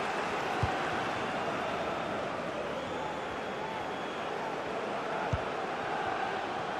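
Stadium crowd noise in FIFA 21 at a Premier League match, Fulham against Leicester, as fans jeer the referee: a dense, steady roar of many voices throughout, with two brief thuds breaking through.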